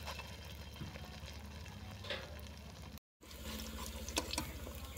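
Bora fritters frying in hot mustard oil in a village kitchen, a steady close sizzle and crackle with scattered pops and a brief dropout midway, no voices.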